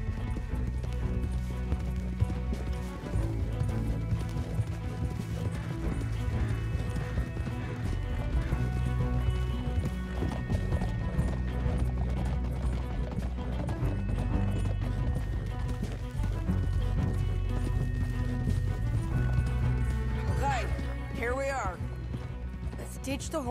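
Rhythmic hoofbeats of galloping horses in Red Dead Redemption 2 run throughout, mixed with music and occasional voices, with a horse whinny near the end.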